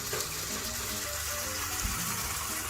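Ladles of stock pour into a pan of porcini mushroom risotto, a continuous splashing gush that stays close and fairly even for a few seconds, with no talking.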